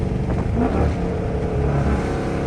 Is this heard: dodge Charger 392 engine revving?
yes